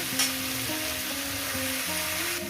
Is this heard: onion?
yes